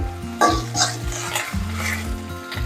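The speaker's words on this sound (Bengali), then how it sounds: "অল্প একটু সময় আদাটা কষিয়ে নিয়েই" Ginger paste sautés in a pan with a soft sizzle while a spoon scrapes and clanks against the metal in repeated stirring strokes, close and fairly quiet.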